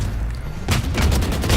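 Missiles launch and burst in a Valorant esports match: a quieter stretch, then a sudden dense barrage of rapid explosive blasts and crackling impacts that run continuously to the end, loud and near.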